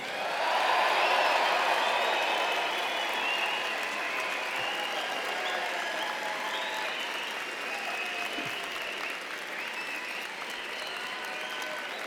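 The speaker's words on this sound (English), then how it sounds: "get ready to clap, to cheer, to shout, to make all the noise that you can" A large graduation audience at a 2017 university fall commencement applauds and cheers loudly, a dense sustained wash of clapping that peaks early and holds steady with crowd shouts mixed in, no speech over it.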